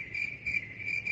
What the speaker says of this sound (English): Nice crickets.